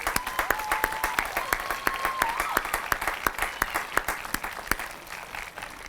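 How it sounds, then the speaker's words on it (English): Applause for speakers at a high school graduation ceremony, a crowd clapping with sharp, distinct claps over a broad wash, moderately distant, with a faint whistle-like tone drifting through early on. "Another round of applause for our speakers."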